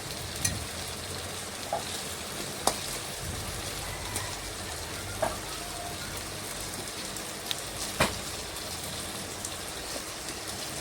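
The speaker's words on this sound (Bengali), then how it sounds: "বেশ কিছুক্ষণ সময় নিয়ে দুপাশে আমি ভেজে নেব" Chicken pieces for chilli chicken fry in hot oil with a steady, close crackling sizzle, broken by a few sharp pops and clicks as pieces are turned, and no one speaking.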